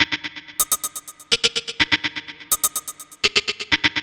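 A melody built from a sample taken from the PlayStation game Fluid, processed with tempo-matched delay and reverb, plays as bright rhythmic plucked notes with echoing repeats, alone and upfront.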